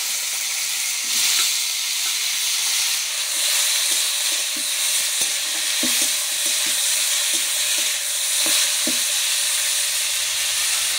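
Steady, loud sizzling of chopped tomatoes frying in hot oil with panch phoron, with a constant hiss and scattered crackles and small stirring clicks throughout.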